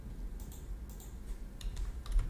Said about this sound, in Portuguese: Deixa eu digitar aqui, ó.